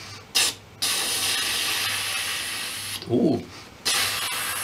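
A foley artist's voice imitates a spray paint can: a short burst of hiss, then a long steady spray, a brief break and another sustained hiss, close and loud.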